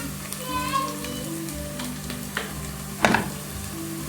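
Capsicum goes into a hot frying pan and sizzles in a steady crackling hiss with light scraping of the pan and a sharper clatter near the end.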